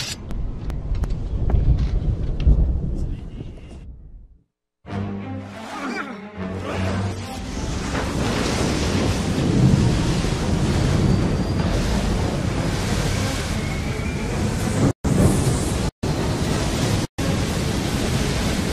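A storm at sea in Assassin's Creed 3, a dense, steady roar of wind and crashing waves around a sailing ship, loud and continuous, with a brief silent gap early and a few short cuts near the end.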